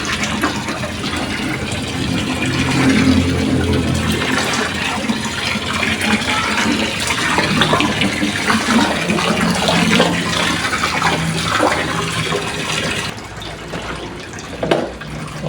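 Water splashes steadily from a spout into a small gourami fish pond, a continuous bright, even pouring sound that stays close and loud throughout.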